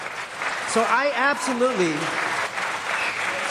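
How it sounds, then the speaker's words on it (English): A crowd at a city council meeting claps steadily while a person begins speaking over the applause. "Hold your applause, please"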